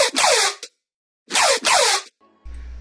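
Synth bass patch with a zap layer: two loud, bright bursts with fast downward-sweeping tones, separated by silence, followed by a quieter buzzing sustained tail.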